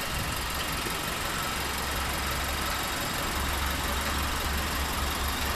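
A 2013 Nissan Juke NISMO's 1.6-liter turbo engine idles steadily after start-up with a low, even rumble and faint vibration, running alone without voices.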